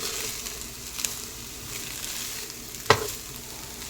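Egg fried rice sizzles gently on low heat in a pan while being stirred and mixed, a soft continuous crackle broken by a couple of sharp utensil clicks.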